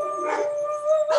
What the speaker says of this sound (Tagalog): saklit lang po tayo sa ating nagtataol na namin yung mga aso